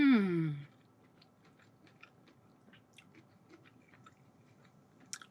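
Someone chews a huge Chicago beef sandwich up close. A brief hummed voice comes first, then soft, faint bites and sporadic small crunchy clicks in a quiet room.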